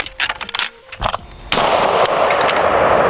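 Rapid bursts of M14 rifle fire right after a quick magazine reload: several sharp, loud close shots in quick succession, then sustained dense blasts and ringing echo filling the rest.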